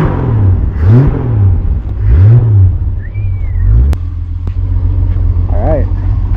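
A 1966 Ford Mustang abandoned for over 20 years cranks and catches, then revs in a few rising and falling swells before settling into a rough, loud idle.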